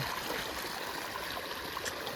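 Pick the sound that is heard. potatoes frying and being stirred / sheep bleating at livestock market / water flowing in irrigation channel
water flowing in irrigation channel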